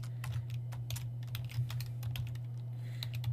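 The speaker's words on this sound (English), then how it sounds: "I'm going to type a hyperlink." Typing on a computer keyboard, entering HTML hyperlink code: a steady run of light, close key clicks with an irregular rhythm over a low constant hum.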